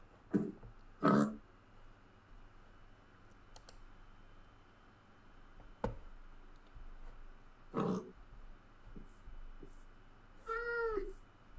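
Minecraft cat sounds: a pair of low growly meows at the start and a clear meow near the end, with scattered keyboard-like clicks and quiet background hum between them.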